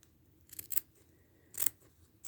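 Scissors cutting a piece of miniature Valentine candy box material, two short bursts of crisp snipping close up with a quiet pause between, no voices.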